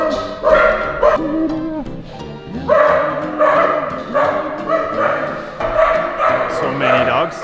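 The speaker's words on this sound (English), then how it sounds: "So many dogs everywhere." Many dogs at an animal shelter bark, yip and whimper in repeated overlapping bursts, loud and close by, with people talking faintly among the noise.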